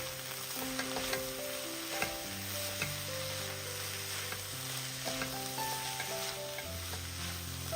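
Garam masala fries and sizzles in a pan while being stirred, a steady close hiss with light scraping strokes throughout, no talking.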